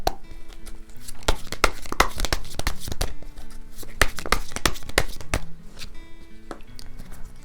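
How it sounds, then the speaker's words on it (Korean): Tarot cards are shuffled and drawn from the deck, a close series of crisp snaps, slaps and papery rustles that repeat in quick irregular bursts, with no talk. "먼저 여러분들의 현재 에너지 2장 뽑아볼게요."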